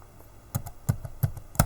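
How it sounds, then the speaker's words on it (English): Keys clack on a computer keyboard in a short run of six or seven sharp taps, close and fairly quiet, in an uneven rhythm. "after typing things, you see, the more I type"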